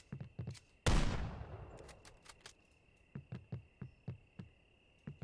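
Gunfire in a horror video game as players shoot at a wendigo: one loud blast with a long decaying tail, then a string of sharp, evenly spaced shots over a steady high insect-like drone.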